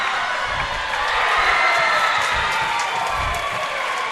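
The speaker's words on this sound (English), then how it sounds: "Obviously the close ones get the crowd going." Spectators at a high school swimming meet cheer and applaud during a close race, a dense, steady roar of crowd noise filling the space without a break.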